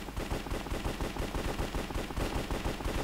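Rapid automatic AK-47 fire in a Minecraft Hypixel Cops & Crims match crackles as a fast, continuous burst of sharp shots, steady and fairly close throughout.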